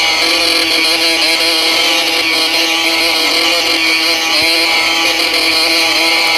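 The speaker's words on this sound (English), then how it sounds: "This dirt bike acting up." A dirt bike engine in a video game drones steadily at high revs, a loud, buzzing whine that holds nearly constant throughout with no talking.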